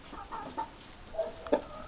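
Two fighting hens clucking quietly nearby, a few short scattered clucks and squawks over a faint background, with no talking.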